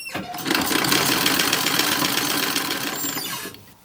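A sewing machine stitches cuffs onto a 1930s-1940s style toddler romper, a fast, steady whirring run lasting a few seconds at close range before stopping.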